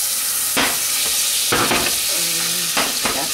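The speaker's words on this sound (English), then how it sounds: "That crab cakes are cooking." Crab cakes sizzle and fry in a hot pan, giving a steady bright hiss with a few louder crackling bursts and a brief tonal squeak partway through, close and continuous with no talking.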